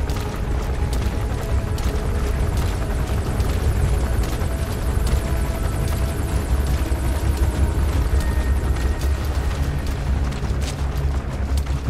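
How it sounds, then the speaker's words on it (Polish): Helicopter in the video game Metal Gear Solid V: The Phantom Pain, a loud, steady rotor roar with heavy low thumping that holds throughout, close and unbroken, with no talking over it. "Będzie się zniżał ten cały helikopter, czy?"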